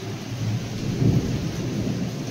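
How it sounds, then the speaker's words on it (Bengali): Thunder rumbles low and steady through a downpour of heavy rain, a broad continuous roar with a slight swell near the middle and no voices. "মেঘ ডাকছে"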